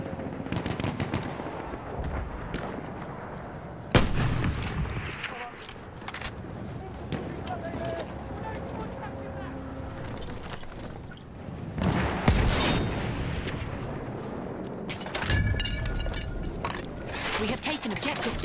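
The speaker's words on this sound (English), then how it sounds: "Machine gun, one of theirs." Enemy machine gun fire in the Battlefield video game rattles in several rapid bursts among other battle noise, with voices talking over much of the action.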